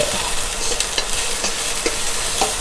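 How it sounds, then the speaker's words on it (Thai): Colored chili peppers being stir-fried in a pan hiss loudly and steadily up close, punctuated by several quick scrapes of a spatula, with no voices. "ผัดพริกก่อนนะคะ"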